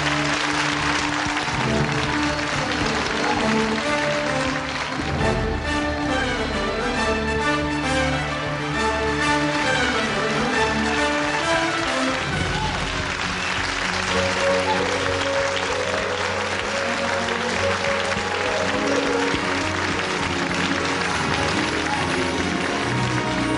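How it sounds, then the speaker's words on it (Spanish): Sustained, loud audience applause at a party fills the whole stretch evenly, with a tonal musical layer running beneath and little talk breaking through. "Fuerte aplauso para la señora Nancy Duplá."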